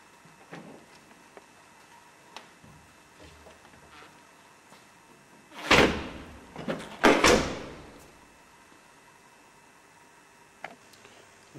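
Cabinet doors on a custom camper van conversion swing open and shut, giving two loud, close clunks and rattles a second apart amid quiet workshop ambience.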